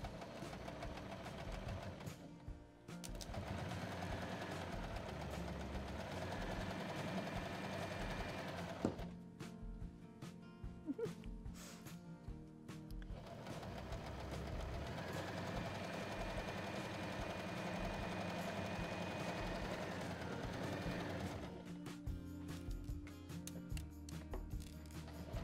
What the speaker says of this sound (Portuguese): vamos lá, vamos passar a costura